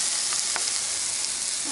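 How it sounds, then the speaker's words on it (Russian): Squeezed eggplant fries in a dry pan with no oil, giving a steady loud sizzle with a few sharp pops and crackles. "Это последний ингредиент, который я обжариваю."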